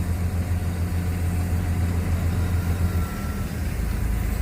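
Komatsu PC200-8 excavator diesel engine idling nearby with a steady low rumble, loud and continuous through the short stretch, with no speech.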